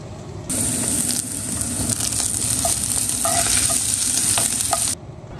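Ginger-garlic paste frying in hot oil with onions, a steady loud sizzle with occasional crackles and spoon stirring throughout.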